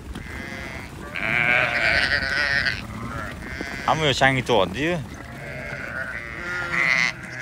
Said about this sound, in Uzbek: Chopish qarang bularni, yayrayapti qo'ylar tashqariga chiqib.